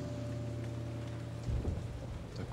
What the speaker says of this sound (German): Nee, das war nur Regen.